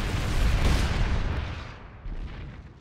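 A turret fires in a Zerg video game, letting out a heavy booming blast that swells and rolls off, followed by a smaller second thump, loud and alone.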